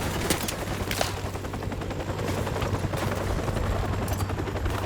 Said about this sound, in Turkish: Helikopter tekrar dönüş yapıyor.